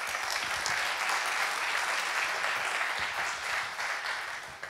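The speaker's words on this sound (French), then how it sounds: "je vous demande d'accueillir et d'applaudir Nicolas Melot" Audience applause welcoming a speaker onto the stage at a talk, a steady, dense wash of many hands clapping that holds at an even level throughout with no voices over it.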